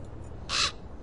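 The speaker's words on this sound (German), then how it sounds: "Da ist der Rabe wieder." A raven in the video game Black Mirror 3 gives one short, harsh caw, clear and mid-distance, over a low, steady ambient rumble.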